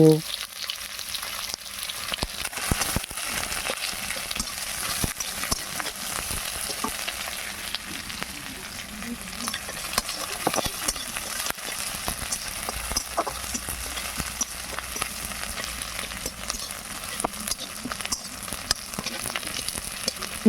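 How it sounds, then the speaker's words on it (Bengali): Chopped onion fries in a wok with cumin, giving a steady close sizzle that runs throughout with occasional faint stirring scrapes. No one speaks. "এখন দিয়ে দিচ্ছি পেঁয়াজ কুচি পেঁয়াজ কুচিগুলোকে একটু লাল লাল করে ভেজে নেব"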